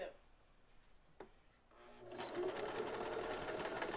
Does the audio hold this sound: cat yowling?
no